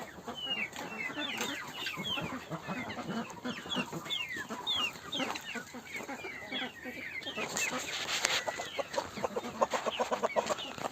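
Chickens cluck continuously on a goose, duck and chicken farm, many birds overlapping in a busy, close chorus of short calls with steady farmyard noise behind them.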